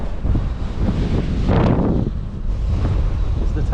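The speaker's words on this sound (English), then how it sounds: "It's a bit windy up here." Loud, continuous wind roaring and gusting against the microphone on a high lookout above a ghost town in Turkey, swelling into a stronger blast midway.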